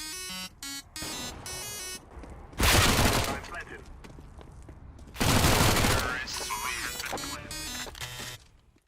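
Two dense bursts of automatic fire from a MAC-10 submachine gun in CS:GO, each rattling for about a second, set among beeps and game music, with someone talking over the rest.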